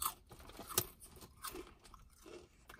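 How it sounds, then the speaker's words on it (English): Loud close-up chewing with crunchy bites and wet mouth sounds in an irregular rhythm, nearby and alone with no talk. "Can you chew any louder?"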